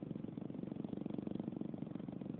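A car engine idles close by, a low steady throb with an even pulsing rhythm, running alone without talk.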